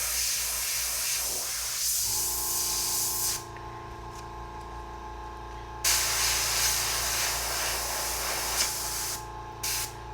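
An airbrush sprays paint over stencils in long, steady hissing bursts, close and fairly loud, with a short pause in the middle and brief gaps near the end under a constant compressor hum.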